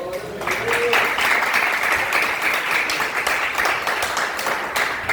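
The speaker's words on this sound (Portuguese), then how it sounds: "Agora salve de palmas para vocês que interagiram." Church congregation clapping in appreciation during a Sunday school lesson, a steady, dense patter of many hands that fills the whole clip at moderate loudness after a brief opening moment.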